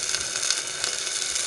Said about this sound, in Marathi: तुम्ही बघू शकता पाण्याचा एकदम सर्र असा आवाज येतो आहे